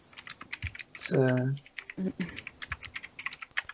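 Rapid clicking from a computer keyboard, with bursts of close keystrokes in an uneven rhythm. A voice breaks in briefly partway through.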